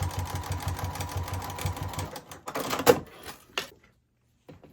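A sewing machine runs a steady rapid stitching rhythm for about two seconds while top-stitching a white line on a fabric sling, then stops, followed by a few handling knocks and clicks.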